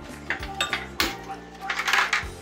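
A pressure cooker goes onto a kitchen stove to cook lentils, making a few close metallic clanks and clinks followed by lighter scraping, quiet with no talking.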